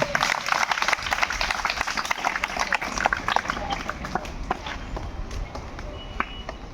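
Audience applause welcoming a speaker at a Navodaya school Foundation Day function: dense, steady clapping from a crowd, fairly loud and continuous, with scattered sharper individual claps and some background voices.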